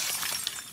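A brief crash of window glass breaking in The Last of Us Part II, a quick bright shatter with a faint tinkle of falling shards, lasting under a second.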